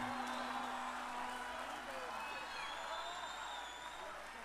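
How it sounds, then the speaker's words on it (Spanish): At the 2014 Semana de la Chilenidad concert in Maipú, an audience gives the musicians a steady wash of applause and cheering, soft and somewhat distant, fading slightly toward the end. "Y a sus músicos, fuerte el aplauso"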